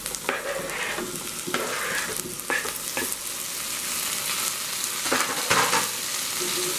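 Tomato goes into a hot, seasoned pan for tuna pasta, giving a dense, continuous sizzle and frying crackle with several louder stirring bursts close by.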